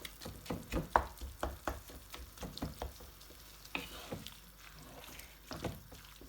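Potato and minced beef cutlet mixture cooking in a pan over medium heat, with a gentle sizzle and repeated rhythmic spatula scrapes and taps against the pan, close up.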